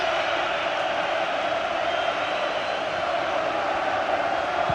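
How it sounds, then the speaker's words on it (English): The Anfield crowd at a Liverpool v Barcelona UEFA Cup semi-final second leg makes a dense, continuous roar of celebration that holds steady and loud from start to finish. "an incredible noise, the Anfield crowd. And they're celebrating the victory now."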